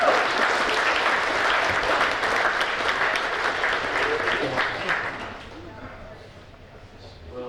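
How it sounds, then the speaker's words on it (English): Applause from the crowd at a Spanish Fork Salem Chamber of Commerce gala awards event, dense loud clapping that holds for about five seconds and then fades, with voices faintly underneath. "You guys will give Landon a round of applause."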